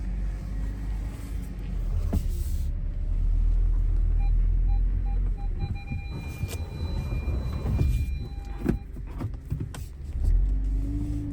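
A 2009 Audi A4 Quattro with a newly installed clutch throw-out bearing idles steadily with a low, close engine rumble, joined by a few brief mechanical clicks and tonal whines from inside the car, with no talking.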